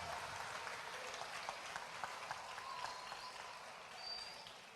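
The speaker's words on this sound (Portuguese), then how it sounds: "Dê uma forte salva de palmas para Jesus." A church congregation applauds together, a steady, dense wash of clapping that holds evenly throughout without any speech over it.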